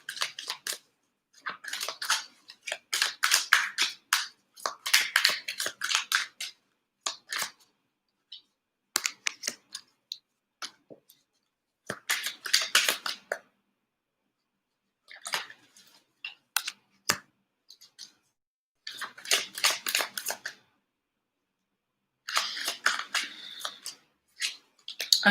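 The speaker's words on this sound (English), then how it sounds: "I'm going to pull the cards out first" Tarot cards pulled from a deck and handled close up, with bursts of crisp rustling, shuffling and sliding in clusters separated by quiet pauses, no talking.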